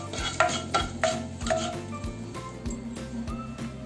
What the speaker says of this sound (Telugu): 1 స్పూన్ జీలకర్ర, 1 స్పూన్ ఆవాలు, 1/2 స్పూన్ మెంతులు కూడా వేయండి. పోపు చక్కగా ఫ్రై అవనివ్వండి.